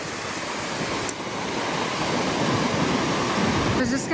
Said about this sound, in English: the waves look like a normal day when it's more windy